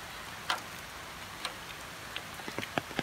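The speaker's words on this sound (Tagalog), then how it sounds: "Umuulan." Rain falling in the early dark morning, a soft steady hiss with scattered sharp drip ticks landing irregularly, faint and without talk.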